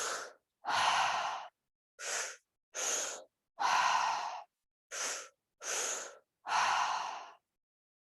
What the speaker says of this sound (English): as long as you're breathing deeply and in and out through the mouth